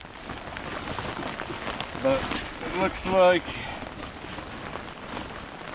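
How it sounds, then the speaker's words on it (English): Rain hisses steadily across open water during a wilderness canoe trip in northern Manitoba, a constant wash of falling drops with someone speaking briefly over it. "we're not going to be able to dodge the rain this time"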